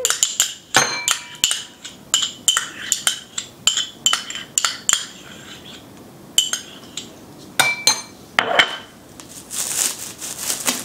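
A spoon scraping and clinking against a bowl while dog cake batter is mixed with sticky peanut butter, in short irregular knocks and scrapes close by, with no talking.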